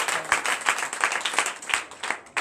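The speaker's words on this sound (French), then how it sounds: "Donnez l'acclamation à ce Dieu." A church congregation at a Sunday service in Comè, Benin, claps and cheers in a dense, steady burst of applause lasting a couple of seconds, with no talk over it.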